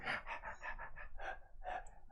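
A voice imitates a creature panting, giving a quick run of rough breathy huffs in an uneven rhythm, quiet and close.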